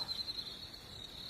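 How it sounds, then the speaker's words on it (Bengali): Crickets chirp at night in the dark outdoors, a steady high, continuous trill held at an even, moderate level against a faint background hiss, with no voices present. "বাইরে ঝিঝি পোকা ডাকছে"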